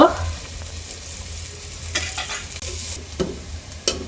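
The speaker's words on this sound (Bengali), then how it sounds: "তো আমি এখন পেঁয়াজের বেরেস্তাটা করে নিচ্ছি" Onions frying for birista in a large pot for nihari, a steady close sizzle with stirring scrapes and a few sharp clinks of a spoon against the metal.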